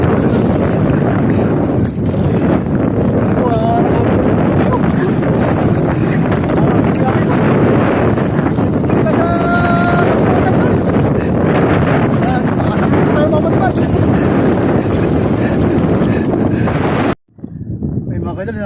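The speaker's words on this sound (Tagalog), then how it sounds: "Malakas na yung hangin." Strong, steady wind roars across the microphone with boat and water noise beneath, voices faintly in the mix, cutting off briefly near the end.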